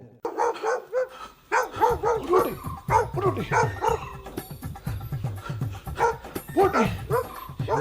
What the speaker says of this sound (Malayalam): ഈ പട്ടി എന്നെ കാണുമ്പോൾ മാത്രം എന്ത് ബഹളം?